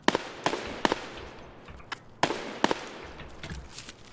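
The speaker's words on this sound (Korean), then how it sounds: "이쪽에서 총소리?" Several sharp video game gunshot cracks ring out in scattered bursts, some close and loud, others fainter, over a steady game background.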